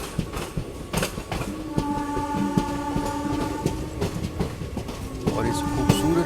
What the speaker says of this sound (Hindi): अपनी ट्रेन का अराइवल हो रहा है मधुपुर जंक्शन रेलवे स्टेशन पे